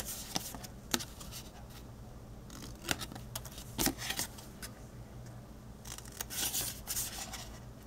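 Scissors snip through the square corners of a paper scrapbook pocket for a Halloween accordion photo album, a series of faint, sharp cuts spaced irregularly with soft rustling between them.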